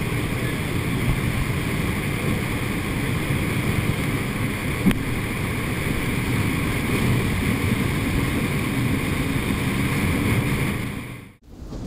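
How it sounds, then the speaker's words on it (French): A steady roar of massive ocean waves and wind surrounds an aircraft carrier at sea, a continuous dense wash with no pauses, ending in a brief dip. "Regarde comment ce porte-avions gère ces vagues massives dans l'océan comme un pro."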